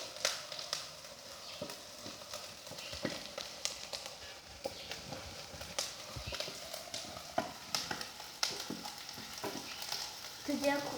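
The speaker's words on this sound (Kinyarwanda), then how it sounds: "ahantu haba hari amavuta niho ugomba gushyira ibitunguru" Onions hit hot oil in a pan and fry with a busy, crackling sizzle, punctuated by sharp clicks and scrapes of stirring, steady and close for the whole stretch with no talking.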